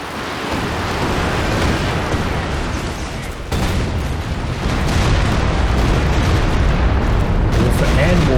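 Walking Stuka rocket barrages from Company of Heroes 2 crash down as a continuous wash of booming explosions, loud and dense throughout with a fresh surge of blasts midway; a voice talks over the barrage.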